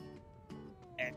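A cat meows inside the horror video game Dreadout 2, a short mewing cry that rises at the end, with soft game ambience beneath it.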